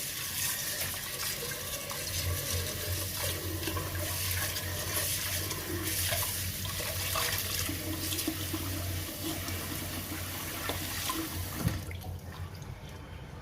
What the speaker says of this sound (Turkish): Tekrar sıcak suyumla beraber yıkıyorum.